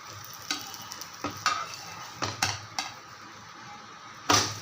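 An egg and oats tiffin sizzles quietly in a pan while a spatula scrapes and flips it, several distinct scraping knocks spaced apart over a soft steady frying hiss.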